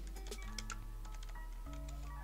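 Rapid, close clicking of computer keyboard keys being typed in a steady quick burst over a constant low electrical hum.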